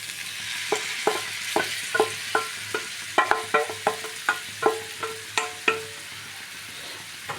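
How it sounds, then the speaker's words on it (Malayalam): Chopped cabbage and scrambled egg stir-frying in a pan for a cabbage thoran, with a steady soft sizzle and a dozen or so sharp spatula scrapes and knocks coming at a brisk, fairly regular rhythm, close and clear with no talk. "നുറുക്കി വെച്ച ക്യാബേജ് ഇതിലിടാം."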